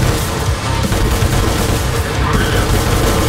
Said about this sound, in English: That's some fast shooting